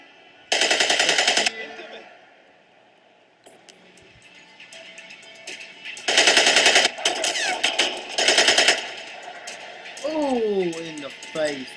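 Loud bursts of automatic gunfire in the Splinter Cell video game, several separate rattling volleys spaced apart, with quieter game sounds and bits of voice between them.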